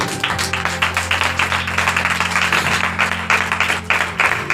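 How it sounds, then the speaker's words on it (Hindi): A church congregation claps during a sermon, steady rhythmic handclapping with a low sustained hum beneath it, continuing evenly for several seconds. "हालेलुया, हालेलुया, ताली बजाइए उस मसीह का"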